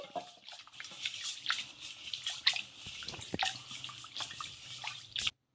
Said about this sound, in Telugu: నేను ఒక బౌల్లో అయితే వేసుకొని ఈ బియ్యాన్ని ఒక 2 సార్లు వాష్ చేసేసుకోవాలి